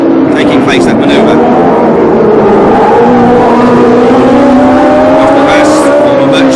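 1976 Long Beach Grand Prix Formula One cars racing around the street circuit, a loud continuous engine drone with shifting pitch as cars pass, under steady commentary.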